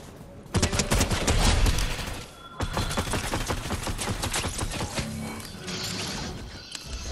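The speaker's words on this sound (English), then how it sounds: "I'm getting shot, bro." Bursts of rapid gunfire in a video game, dense clattering volleys, close and loud, with brief gaps between them and mechanical clicks mixed in.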